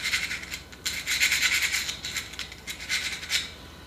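Rust is scrubbed off the gears of a Jeep Rubicon JK sway bar disconnect, heard as a quiet, close, raspy brushing that comes in repeated short strokes with brief gaps.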